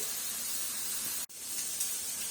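A grass-fed sirloin steak sizzling in a pan, a soft, steady hiss that cuts out for an instant midway and then carries on, fairly quiet with no voices.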